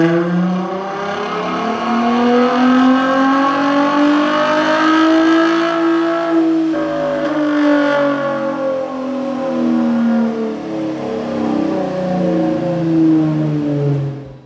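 A high-mileage V6 Dodge Charger engine revs hard on a dyno, pitch climbing steadily through a long, loud pull with rich harmonics, briefly dipping midway before rising and holding again.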